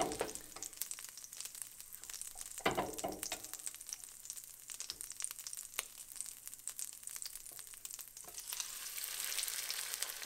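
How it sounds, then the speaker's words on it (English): Tortillas fry in oil in a pan with a continuous crackling sizzle, occasional louder pops and some stirring or handling noises, heard close up without talk. "We're done frying up all the tortillas"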